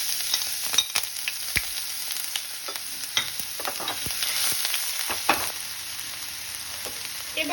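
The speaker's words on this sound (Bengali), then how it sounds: "এবার আমি একটা প্যান গরম করে এর মধ্যে দিয়ে দেব আদা, রসুন আর কাঁচা লঙ্কা" Minced ginger, garlic and green chili fry in a hot pan for a chicken spring roll filling, with a steady bright sizzle punctuated by sharp clicks and scrapes of stirring.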